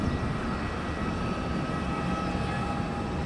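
An Airbus A330 airliner moving onto an airport runway gives a steady, loud, broad engine roar that holds evenly throughout with no pauses.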